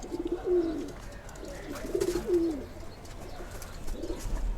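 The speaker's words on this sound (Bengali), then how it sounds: "কবুতরটি দেখুন মাশাআল্লাহ।" A pigeon in a home loft gives two soft, low cooing phrases with a pause between them, moderately close, over a quiet, slightly noisy room background with no talk.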